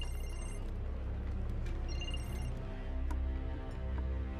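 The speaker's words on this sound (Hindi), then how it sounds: "फोन आ रहा है तुम्हारा।" A mobile phone rings in a quiet indoor scene, sounding as repeated short ringtone bursts over a low background hum, with no one speaking.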